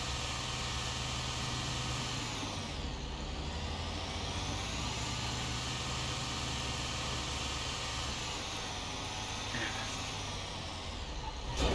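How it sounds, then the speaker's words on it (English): Truck engine struggling in the video game Grand Theft Auto 5, a continuous labouring mechanical drone that stays steady and fairly loud throughout, with no talk over it. "Sounds like that truck engine is really struggling."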